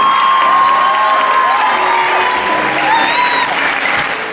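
A class audience applauds and cheers for a visiting guest speaker, with steady, dense clapping and a few whoops throughout.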